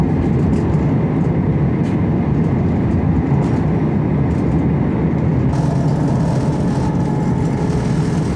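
A steady, loud rumble of riding on a moving train, with continuous rail and carriage noise and no voices.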